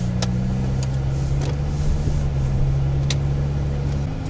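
A car drives along a road with a dual-camera dashcam recording, a steady engine hum with a few brief whooshes of passing vehicles.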